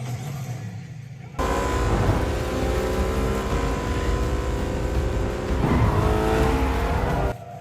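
Cars roaring through a chase sequence in The Batman, a loud sustained engine drone that swells at about 1.4 seconds, rises again near 5.6 seconds and cuts off sharply near the end, with no talking.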